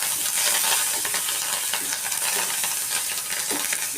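Curry leaves dropped into hot oil for an Andhra-style tempering of a tamarind curry with asafoetida, giving a steady, close crackling sizzle with frequent small pops and light spoon scrapes, no voices.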